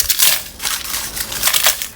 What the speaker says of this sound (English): we have to blend it into a smooth powder.